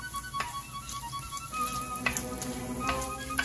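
Pork frying in oil in a pan for an authentic Roman carbonara, a close, steady sizzle with crackling pops, and a few sharp clicks from stirring.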